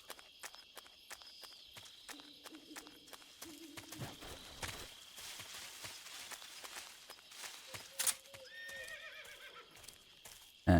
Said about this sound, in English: You just heard a horse?